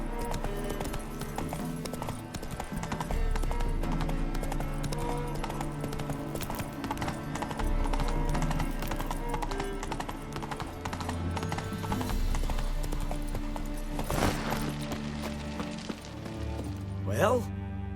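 Roach, the horse in The Witcher 3, galloping with steady, rapid hoof clip-clops under a continuous game music score, with a voice briefly heard.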